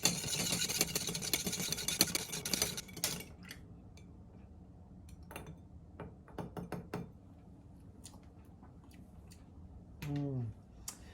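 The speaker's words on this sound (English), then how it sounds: "I'm just gonna stir it until nicely chilled." A Rob Roy cocktail stirred with a bar spoon over ice until chilled, heard as a run of rapid close clinking and ticking of ice against glass, then scattered single clicks, with a brief tonal sound near the end.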